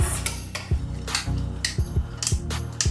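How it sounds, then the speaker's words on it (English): Food cans being opened for chili: a series of sharp metallic clicks and clanks with scraping, irregular and close-up, recurring every half second or so with no talking. "I'm going to open up all of my cans."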